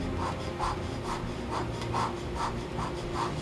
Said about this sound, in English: As you can see, the student is ready to do hand scraping.